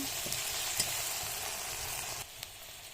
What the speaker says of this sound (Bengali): সবজি পেঁয়াজ ভাজতেছি, এখন মশলা দিয়ে দেবো হালকা করে।